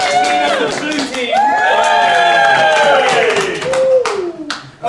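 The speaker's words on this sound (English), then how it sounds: "Cheer for the blue team" A live comedy-show audience in Glasgow cheers and whoops for the blue team, a loud burst of crowd voices with scattered clapping that swells, holds for several seconds, then trails off near the end.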